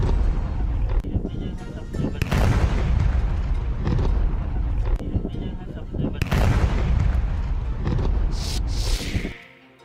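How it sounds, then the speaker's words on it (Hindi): Heavy blasting thunders near homes in a residential area of Lalitpur, with powerful, rumbling explosions rolling one after another for several seconds. The booms are loud and sustained, and a sharp crackling burst comes near the end. "ब्लास्टिंग हुई, बहुत जोरदार धमाका हुआ।"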